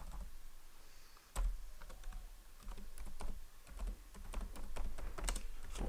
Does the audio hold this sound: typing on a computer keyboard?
yes